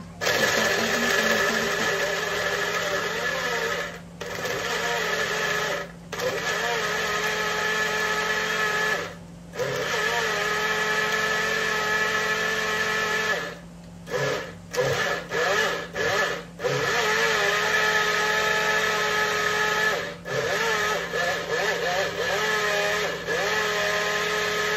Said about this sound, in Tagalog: Tapos takpan na natin at ilagay dito sa shake machine.